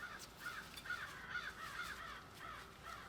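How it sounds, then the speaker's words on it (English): Several crows caw repeatedly nearby outdoors, their harsh calls overlapping in a steady chattering run with no other voices. "The crows are laughing at me."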